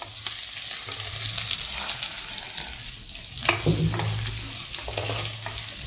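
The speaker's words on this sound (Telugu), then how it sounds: "ఒక ఉల్లిపాయ ముక్కలు కోసుకున్నాను చూడండి ఇవి కూడా ఇందులోసి వేసేస్తున్నాను" Chopped onion sizzles in a pan of poppy seed curry. A busy, close frying hiss comes with spoon-stirring scrapes, and a louder burst of sizzle follows as the onion goes in, with no talking.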